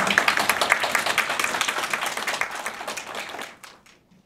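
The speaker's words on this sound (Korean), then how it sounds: "큰 박수로 맞이해 주시기 바랍니다" An audience at a lecture claps steadily to welcome the speaker, dense and lively at first, then thins out and dies away into a few last claps.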